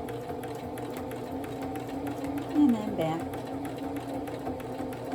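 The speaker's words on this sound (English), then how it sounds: "It's so soothing to listen to the sewing machine just humming away." Steady mechanical humming of a sewing machine stitching a leaf appliqué continuously, with a person speaking briefly over it.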